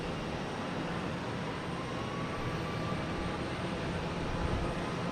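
A Hainan Airlines airliner arriving from Beijing at Boston Logan Airport, a steady broad jet roar heard from a distance with no talking over it.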